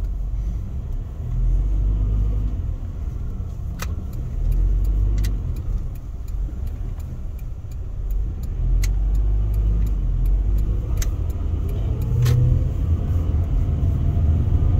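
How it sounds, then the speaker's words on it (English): Inside a 1997 Honda Odyssey driving full-time all-wheel drive down the road, with a steady low engine and road rumble plus occasional faint ticks, heard continuously without speech. "Super smooth, drives tracks nice and straight down the road, powered all four wheels full time."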